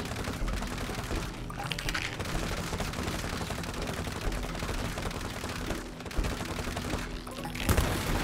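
Rapid bursts of video game gunfire crackle continuously, dense and loud, with brief lulls between volleys.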